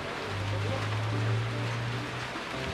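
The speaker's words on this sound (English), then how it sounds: "It's raining right now." Rain falling steadily in Chiang Khan, northeast Thailand, with a low engine-like hum underneath, continuous and moderately loud, no talking.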